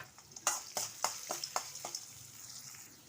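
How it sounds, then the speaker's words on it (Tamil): Asafoetida, mustard seeds, urad dal, chana dal, green chilli, carrot and beans are sautéed in a pan, giving about six quiet, evenly spaced spatula scrapes over a faint sizzle. "பெருங்காயம் கடுகு உளுந்து கடலைப்பருப்பு பச்சை மிளகா கேரட்டு பீன்ஸு சேர்த்து வதக்கியாச்சு"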